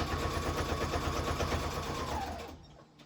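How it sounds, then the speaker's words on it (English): A sewing machine sewing down fabric edges runs in a fast, steady mechanical rhythm close by, then slows and stops near the end. "I'm going to take this next to me to the sewing machine and just sew down the edges"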